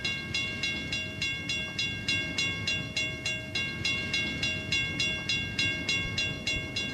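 A Burlington Northern freight train rolls into the Cicero yard near Chicago with a steady rhythmic clatter of wheels over rail joints, continuous and moderately loud, no voices.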